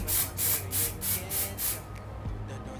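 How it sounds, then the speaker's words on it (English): Six quick hissing bursts from a hair spray can, evenly spaced and close, followed by a moment of quiet. "And I'm going to spray."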